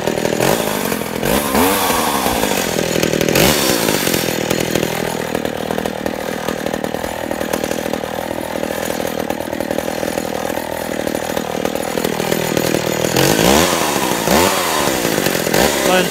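A Stihl 015 chainsaw runs steadily at high revs while cutting wood, loud and close, with brief rises and dips in pitch at the start and end of the cut.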